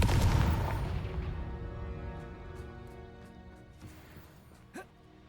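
A Confringo blasting spell in the Hogwarts Legacy video game goes off as a loud, booming explosion right at the start, its rumble ringing out and slowly fading over several seconds, with a brief faint whoosh near the end.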